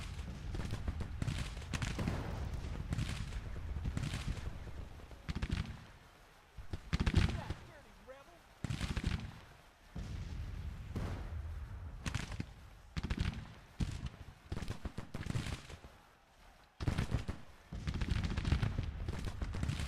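Civil War battle gunfire in the video game Grand Tactician crackles in volleys and scattered musket shots, with booming artillery-like thumps mixed in, a steady loud battlefield din that keeps going throughout.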